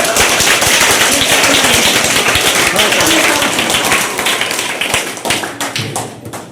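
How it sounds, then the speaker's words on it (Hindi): A crowd of schoolchildren gives loud, dense applause for a newly elected school prime minister at a student assembly, sustained clapping that thins out toward the end. "जोरदार ताली से इसके नए कार्यकाल के"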